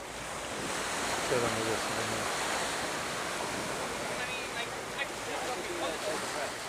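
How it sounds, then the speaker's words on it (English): Caribbean Sea surf rolls onto Seven Mile Beach on Grand Cayman as a steady, broad wash of waves with wind buffeting the microphone, while a person speaks briefly over it. "That's the Caribbean Ocean out there."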